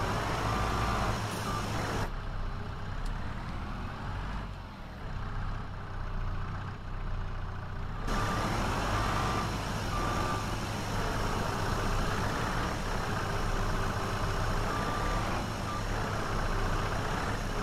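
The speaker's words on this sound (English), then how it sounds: "I'm gonna get this truck turned around here quick" Farm truck turning around in a field, engine droning steadily up close with intermittent high reversing beeps recurring at intervals.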